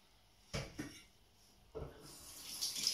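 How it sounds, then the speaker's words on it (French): A kitchen sink tap runs briefly as hands are rinsed after cooking stuffed cabbage, with two short close splashy bursts of water and a hissy flow building toward the end. "J'en profite pour me rincer les mains."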